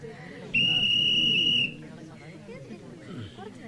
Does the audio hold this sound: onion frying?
no